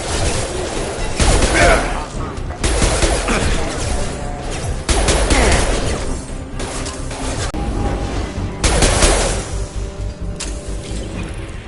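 Gunfire in the Mass Effect video game: loud bursts of shots and crashing impacts come in several waves, mixed with game noise and some voices.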